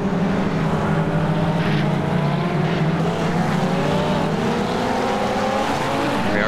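Simulated RUF race cars circling Twin Ring Motegi in iRacing, several engines droning together at steady loud volume with rising and falling pitch as the cars accelerate, no voices over them.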